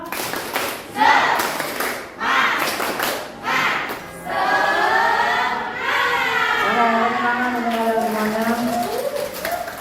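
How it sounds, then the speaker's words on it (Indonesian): A school class doing a tepuk semangat clap: a few sharp rhythmic group claps and chanted calls, then sustained voices singing or chanting together. "tepuk semangat satu kali ya"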